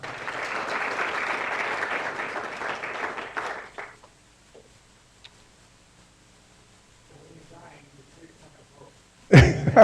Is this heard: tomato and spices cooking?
no